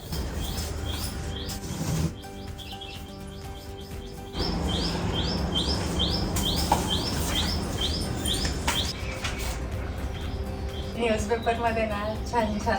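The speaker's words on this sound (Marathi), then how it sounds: "पक्ष्यांच्या किलबिलाटचा खूप छान असा आवाज ऐकायला येईल" Birds chirp and tweet in quick repeated morning calls throughout, heard beneath continuous talking and background sounds.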